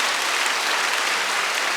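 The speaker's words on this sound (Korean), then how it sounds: "우리 서로 감사하고 축하하고 격려하는 박수를 서로를 위해서 한번" Dense, steady applause from a church congregation clapping for one another during a sermon, a continuous broadband patter at even loudness throughout with no voices.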